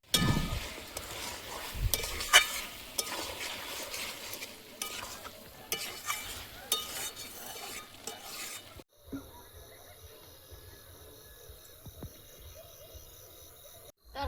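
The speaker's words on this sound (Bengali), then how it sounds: "তরকারিটা ফুটছে" Chicken curry simmering and being stirred in a pot, with close, steady sizzling and scraping for most of the stretch, then quieter bubbling toward the end.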